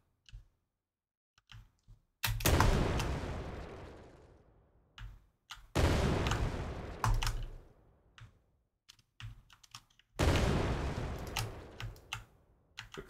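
Three explosive blasts, each decaying over a few seconds, from a grenade and gunfire in an Unreal Engine 5 game, with sparse clicks and short pops between them and no talk.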